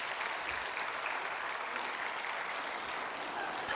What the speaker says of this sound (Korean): 우리 아이들 향해 박수 한번 쳐줄까요?